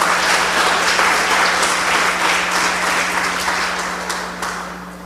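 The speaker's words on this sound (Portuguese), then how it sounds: "Você pode dar uma salva de palmas a este Deus?" A church congregation applauding, a dense continuous wash of many hands clapping at close range that slowly tapers off, with a low steady hum underneath and no talk.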